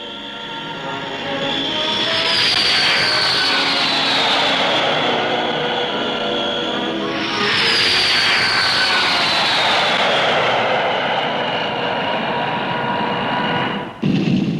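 Argosy airliner flying overhead at the Farnborough airshow: a loud, sustained turboprop roar that swells, passes with a falling whine, then returns in a second pass, filling the clip without voices.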